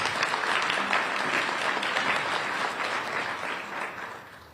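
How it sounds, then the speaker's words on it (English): A police community relations awards ceremony audience gives a round of applause, with dense, steady clapping that slowly fades toward the end. "How about another round of applause for Officer Nivens?"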